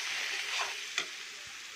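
Spice masala fries in a pan for mutton kadhai, a faint hissing sizzle with a single brief scrape of the spoon.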